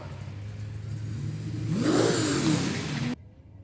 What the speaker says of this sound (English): And the Nissan leaving the start line.